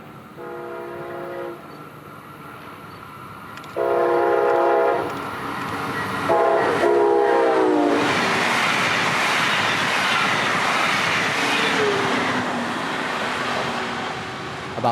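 A Brightline passenger train on the Florida East Coast Railway sounds several loud horn blasts as it approaches, then roars past close by with a sustained rush of wheels and wind that holds steady to the end.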